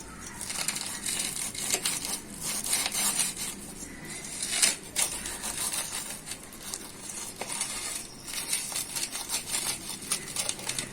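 Crispy toasted bread cheese bites are cut on a plate, giving soft crunchy crackles and light knife taps scattered over eleven seconds, close but fairly quiet.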